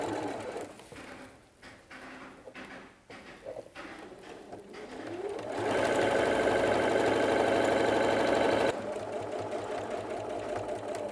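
A domestic sewing machine stitching fabric for a place mat, first with short intermittent bursts and then a steady, close whirring run that drops in level near the end.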